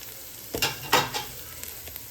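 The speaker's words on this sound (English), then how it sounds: "I'm gonna let that saute for a few" Onions and garlic saute in a hot pan with a few short stirring scrapes and sizzles, quiet and close, with a low frying hiss between them.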